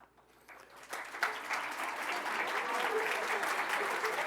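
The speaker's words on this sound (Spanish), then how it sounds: "Usted tiene mejor ovación que yo, profesora." Applause at an architecture lecture for a university dean, clapping that swells within the first second and holds steady and fairly loud, with faint voices mixed in.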